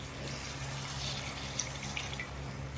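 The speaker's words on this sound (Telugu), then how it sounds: "కొంచెం వాటర్ పోసేసుకుంటున్నాను." Water pours steadily into a cooking pot for a prawn and egg curry, a continuous close splashing hiss with a few faint drips and no talk.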